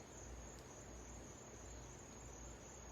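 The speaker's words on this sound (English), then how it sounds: "The crickets are better than the water." Crickets chirping in a continuous high, steady trill, faint and unbroken, with a low background hum and no voices.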